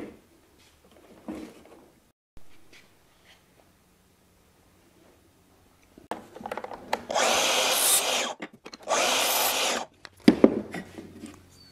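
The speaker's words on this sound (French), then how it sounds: "je vais régler ma scie à onglet à 55 degrés, faire mes deux coupes" Two loud bursts of a miter saw cutting wood trim at a 55-degree angle, each lasting a couple of seconds, with quieter workshop clatter and handling noises before and after.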